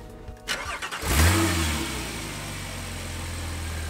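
A Porsche 911 Black Edition engine starts up with a short cranking stutter, then catches and revs up loudly before settling into a steady, strong drone.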